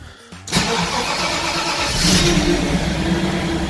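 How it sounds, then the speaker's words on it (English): A Mercedes 560SL is started: brief cranking, then the engine catches with a sharp burst and settles into a steady, close, loud idle with a slight rise partway through, and no talking. "and I try to start the engine"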